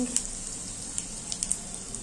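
Cumin seeds and asafoetida sizzle in hot oil for an okra masala, a steady soft frying hiss broken by a few small crackling pops, close and alone.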